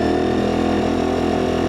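Honda VFR750 motorcycle engine held at steady high revs around 5,000 RPM, a loud, continuous near drone with a smooth even hum that cuts off abruptly at the end.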